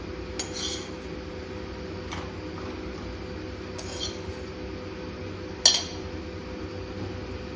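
A spoon pressing and settling chicken pieces into a baking dish: several light, close clinks and scrapes of metal on the dish at irregular intervals, ending in one sharper knock over quiet kitchen hum.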